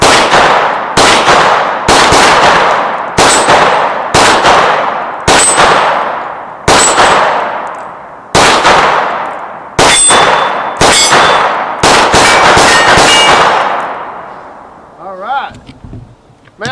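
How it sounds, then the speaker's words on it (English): A Staccato C2 double-stack 9mm pistol fires a rapid string of about a dozen loud shots outdoors, each followed by a ringing metallic ding from a steel target, the final shots spaced apart as the ringing fades. "Man, I like to hear it go ding, ding, ding."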